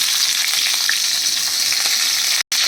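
Drumstick vegetables frying in hot oil, a loud steady sizzle with faint stirring scrapes, close and continuous, ending in a very brief dropout.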